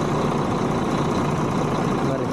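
A Volvo B11R bus engine idles steadily with a low rumbling drone and faint vibration, as the vehicle waits before moving off; there is some background voice activity.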